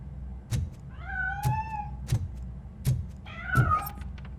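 A cat in RoboCop: Rogue City meows twice, clear and close, the drawn-out cries rising and falling. Sharp metallic thuds and knocks strike at intervals between and beneath the calls.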